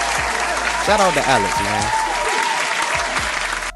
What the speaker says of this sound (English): I'm about to give him a special round of applause.